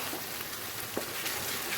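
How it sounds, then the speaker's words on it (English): A pan of okra and aubergine curry in base gravy bubbles and sizzles steadily, a soft continuous close simmer with faint pops and no talking. "So just let that all come to a good boil."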